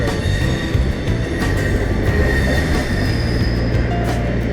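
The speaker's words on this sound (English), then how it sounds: "there's just nothing like watching a train on a day like today" A train rolls past loud and close on an overcast day, a continuous heavy rumble of wheels on rails with bright, sustained metallic squealing riding over it.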